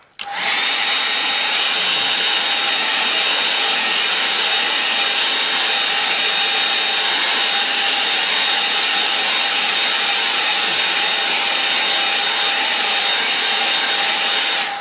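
A hair dryer blows steadily at close range over a painting in progress, a loud continuous whooshing hum with a faint whine that runs unbroken for the whole stretch.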